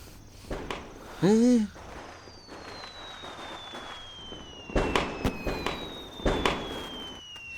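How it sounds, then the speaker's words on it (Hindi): Firecrackers set off outdoors give a series of sharp bangs, spread out and moderately loud, with one rising whistling burst near the start and a few faint background sounds between the cracks. "ये लोग पटाखे क्यों फोड़ रहे हैं?"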